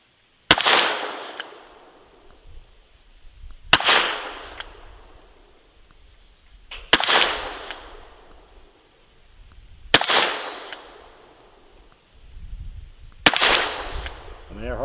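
Five evenly spaced gunshots from a Ruger GP100 .357 Magnum revolver fired with mild loads, each a sharp loud crack with a short ringing decay, roughly three seconds apart outdoors.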